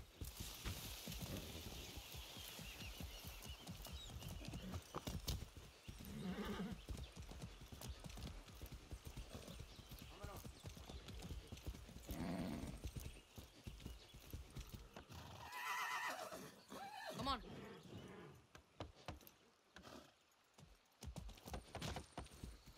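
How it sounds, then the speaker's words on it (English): In the video game Far Cry 6, a horse's hooves clip-clop steadily and close while the animal neighs and whinnies, with the hoofbeats continuing throughout and a few louder snorts and whinnies rising above them. "I'm trying to mount the horse."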